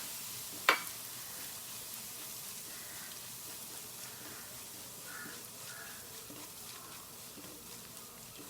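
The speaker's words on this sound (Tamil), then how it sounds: "எண்ணெயில் ஒரு 2 மினிட்ஸ் வதக்குங்க." Ground spice powder with turmeric and asafoetida sautéing in oil for tomato rasam, a faint, steady low sizzle throughout with one sharp click near the start.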